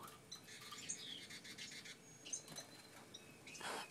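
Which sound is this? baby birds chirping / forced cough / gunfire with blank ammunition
baby birds chirping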